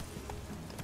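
Horse hooves clip-clop in The Witcher 3 video game, a few quick muffled steps over a dense game ambience.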